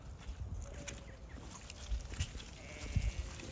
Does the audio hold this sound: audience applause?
no